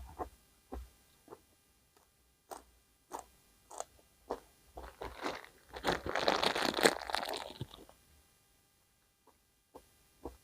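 Close-up crunchy chewing while eating an Isaan eggplant salad with fish dip: separate crisp bites at a loose rhythm, swelling into a denser stretch of crunching midway before easing off.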